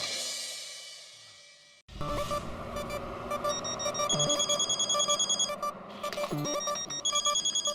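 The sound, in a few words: telephone ringing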